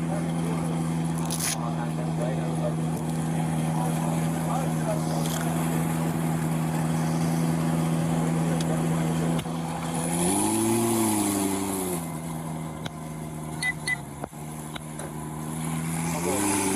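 A car engine turns over and settles into a steady idle hum, then revs up in a rising and falling swell before dropping back to idle, heard up close throughout.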